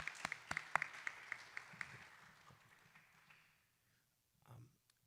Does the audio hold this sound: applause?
yes